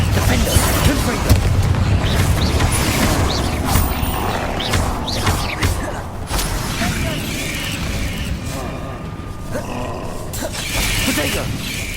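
Spell blasts from Bombarda and Confringo in the Hogwarts Legacy video game, a dense, continuous run of booming impacts and rumbling combat effects, loud and close, with game voices calling out spells over the top.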